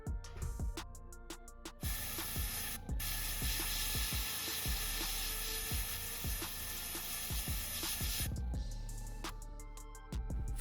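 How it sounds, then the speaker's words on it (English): A steady airbrush hiss blows air to dry paint on a fishing lure continuously for several seconds, with intermittent clicks and taps before and after the long spray. "I then spray air to try to dry the paint."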